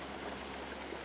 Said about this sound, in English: Let's go turn the water on and let you see what it actually looks like running.